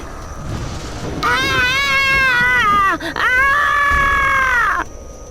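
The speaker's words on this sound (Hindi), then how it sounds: "इतना सुनने के बाद ही वो जोरों से चिल्लाई।" A woman in an animated Hindi horror story screams loudly: a long, piercing cry, a brief catch of breath near the middle, then a second sustained scream that cuts off abruptly.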